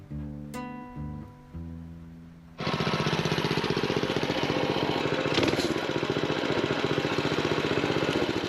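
A Coleman BT200X mini bike with a modified 200cc engine runs loud and close, its rapid steady firing rhythm kicking in after a few seconds of a softer, tonal idle and holding strong to the end.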